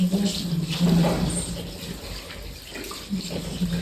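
Running tap water during hand washing before a hospital bed-making procedure, a steady close rush of water with splashing and rubbing variations, under faint talk.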